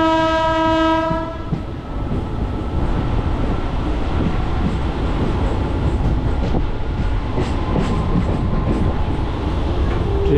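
Digha Rath Yatra special train running near Tikra, opening with a loud sustained horn blast over the first second and a half, then a steady rumble of wheels and carriage rattle throughout.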